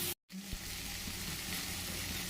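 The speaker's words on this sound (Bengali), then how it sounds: "মশলাটা একটু ভালো করে কষিয়ে নিচ্ছি।" A spice paste of tomato, ginger-garlic paste, Kashmiri chili powder, turmeric and chicken masala fries in a pan. A dense, steady sizzle plays close up, with a short dropout near the start and a faint knock soon after.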